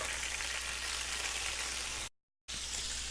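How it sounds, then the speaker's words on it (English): Longanisa sausage frying in two tablespoons of duck fat over medium-high heat, a dense, continuous crackling sizzle heard close up and alone, broken by a brief total dropout before it resumes. "I've got the duck fat, 2 tablespoons, medium-high heat, putting the longanisa in, and we're going to want to get this nice and brown"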